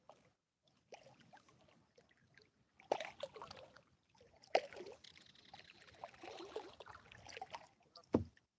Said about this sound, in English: paddling this kayak